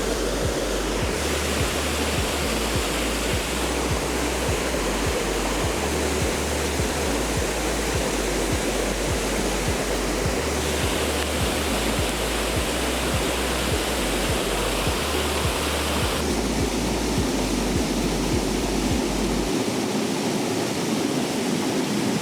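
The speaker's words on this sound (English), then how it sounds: "Brand new waterfall for me too, so check it off the list." The waterfall at Enders Falls roars in a steady, dense rush of falling water, loud and close, with no voices and no letup.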